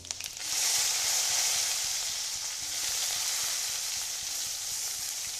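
Panch phoron whole spices hit hot oil in a pan with a sudden loud sizzle that settles into a steady, close crackling fry, with no voices.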